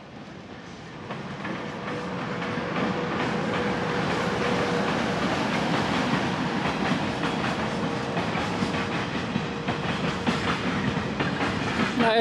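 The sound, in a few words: train passing on rails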